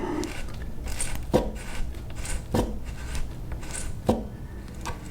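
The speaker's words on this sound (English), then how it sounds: "So now I can just finish screwing this in the rest of the way." A screw is driven into stripped threads in short turns, each giving a crisp close scrape or click at roughly one-second intervals over a soft rubbing background.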